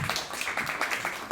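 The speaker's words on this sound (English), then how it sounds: "please join me in welcoming Mr. Allen, the co-founder of Yade and director of Aquamatis. Mr. Allen, please, round of applause," Audience applause welcoming the co-founder of a Finnish natural mineral water brand at an anniversary event, a brief burst of steady, moderately distant clapping from a crowd.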